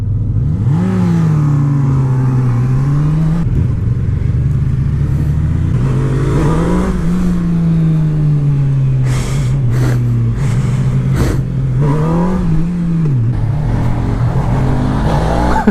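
A 2018 Honda CB1000R motorcycle engine revs and accelerates hard, its roar rising and falling through several throttle surges and gear changes, loud and close, with wind rush throughout.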